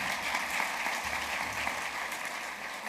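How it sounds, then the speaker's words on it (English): A big audience at a regional educators and scholarship program claps continuously in an even, fairly soft roar of hands that sounds a little distant. "Give yourselves a round of applause."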